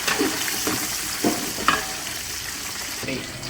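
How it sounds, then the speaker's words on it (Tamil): Onions with a little salt frying in a pan for a Tamil-style chicken curry, giving a steady low sizzle with a few soft stirring scrapes throughout, heard alone without talk. "வெங்காயம் போட்டு லைட்டாக உப்பு போட்டுதான் வச்சுக்கிறேன்"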